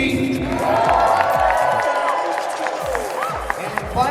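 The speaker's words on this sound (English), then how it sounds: "let's do one more round of applause for our top 2" An audience at a Dragon Ball convention costume contest applauds and cheers, with a dense wash of clapping and scattered whoops from a nearby crowd that swells and then eases off.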